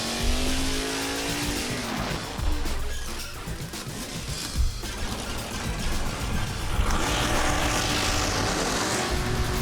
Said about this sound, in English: I want to see some Chevy big block burnouts.